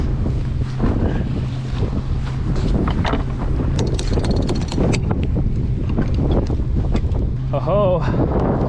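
The sailboat Tally Ho, sailed single-handed, moves through the water with loud wind buffeting the microphone, rushing water and hull wash, and a person talking over the steady noise.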